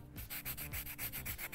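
Sandpaper rubbed back and forth across paper to smooth it while making a handmade graduation keepsake, in steady, regular gritty strokes repeating about every quarter second, close and continuous, with no voices.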